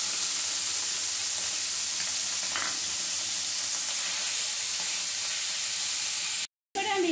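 Small mola carplets frying in hot mustard oil in a wok, a continuous soft sizzle and hiss at moderate distance with faint crackles, broken briefly near the end.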